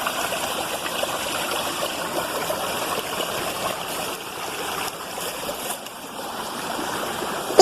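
Similijhar waterfall, a picnic spot, pours in a steady dense rush of flowing water, loud and continuous throughout with no voices.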